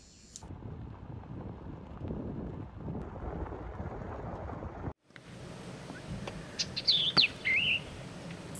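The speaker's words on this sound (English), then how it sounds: "I've got a Bachman sparrow singing out here in the pine barrens" A Bachman's sparrow sings in Florida pine barrens at midday, a faint, thin whistled phrase rising high over steady wind and distant rumble, with a short break in the ambient noise before the song arrives.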